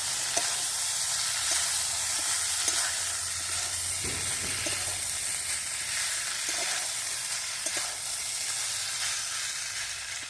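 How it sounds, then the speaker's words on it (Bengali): Mixed vegetables fry with spices in a pan in a village-style home kitchen for pachmisali sabji, a steady bright sizzle under faint stirring scrapes, close and continuous with no talking. "এবার আমি এর মধ্যে সব সবজিগুলো দিয়ে দিচ্ছি, দিয়ে আবারও ভালোভাবে মশলাগুলোকে সবজির সাথে মিশিয়ে নিয়ে"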